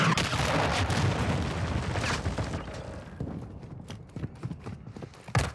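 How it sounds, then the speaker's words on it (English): Cruise missile strike in Call of Duty multiplayer, a heavy rumbling explosion that fades over a few seconds, followed by scattered gunfire and impacts. "Friendly cruise missile approaching target."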